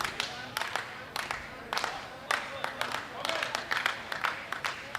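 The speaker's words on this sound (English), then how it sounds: "you can hear them clapping in the background" Fans of the Taínos and Pelicanos all-stars clap in the stands at a baseball game against California, irregular bursts of rhythmic hand claps rising and falling over distant crowd murmur.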